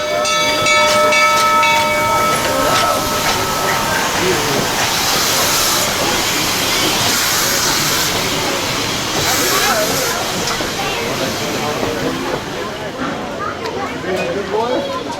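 An 1880 steam train passing in Keystone, South Dakota, with a loud, sustained rumble and hiss of rolling cars close by and a whistle-like tone at the start, while people talk under the noise.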